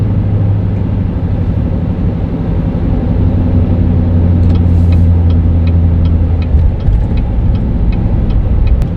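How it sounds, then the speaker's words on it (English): Steady, loud diesel rumble from a 2020 Chevy 3500 dually pickup towing on the road with its exhaust brake engaged, a constant drone throughout with faint ticking mid-clip, no voices. "That time I could really feel the exhaust brake."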